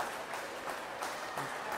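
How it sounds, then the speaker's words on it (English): A swimming competition crowd applauds steadily as a swimmer finishes her race, a continuous wash of clapping and cheering at moderate distance with no clear voices on top. "Great support from the crowd for her. Really encouraging her, clapping her on, cheering her on."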